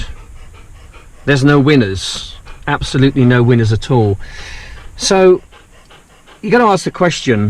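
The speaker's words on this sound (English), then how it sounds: "Sorry about the dog. He's puffing like a train at the moment." A dog pants loudly and rapidly nearby, its quick breaths running underneath and between a man's speech.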